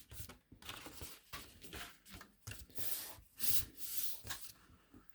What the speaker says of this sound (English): And then you're just going to burnish it down.